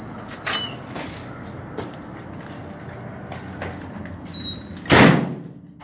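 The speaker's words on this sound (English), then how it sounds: "Okay, I will open the door for you." A door opening at home, with a soft click early on, steady room noise, a faint high squeak from a hinge or latch and a louder scraping swing near the end, and no talking.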